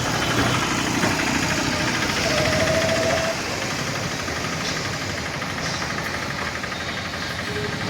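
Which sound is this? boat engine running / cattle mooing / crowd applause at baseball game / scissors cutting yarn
boat engine running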